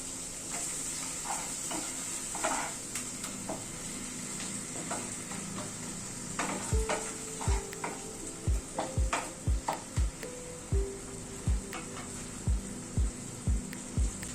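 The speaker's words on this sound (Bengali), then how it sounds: "মশলাটা একটু মিনিট খানেক নাড়াচাড়া করে নিলাম।" Masala with tomato paste stirring and frying in a pan: a soft background sizzle, then a run of regular spatula knocks and scrapes against the pan, close by and with no voices.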